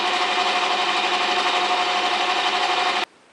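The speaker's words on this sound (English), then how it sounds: "It just actually dawned on me that I am milling with my lathe." Metal being milled on a lathe fitted with a milling attachment, taking light passes, heard as a steady, loud, close mechanical whir that cuts off abruptly near the end.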